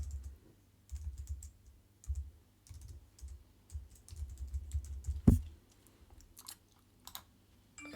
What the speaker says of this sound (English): you type the domain name in here